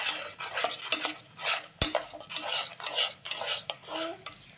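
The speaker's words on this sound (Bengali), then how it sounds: "এবার ভালোভাবে মশলাটা কষাতে হবে।" Spice paste sautéed and stirred in a pan, rhythmic scraping strokes of a metal spoon against the pan with light sizzling beneath, close and clear, one sharp clink near the middle.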